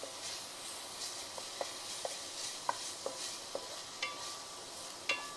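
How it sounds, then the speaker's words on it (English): Sliced white and purple vegetables are stir-fried in a lightly oiled non-stick pan, giving a faint sizzling bed broken by soft, irregular spatula scrapes and taps, no voices present. "So we're just going to quickly stir fry this."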